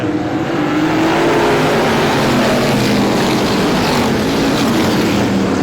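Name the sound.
race cars accelerating on speedway at green flag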